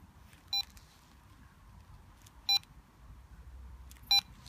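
Paragliding flight instrument giving three short, sharp electronic beeps about two seconds apart over a low, steady background hum, with no voices.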